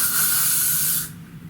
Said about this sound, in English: And you wanna spray them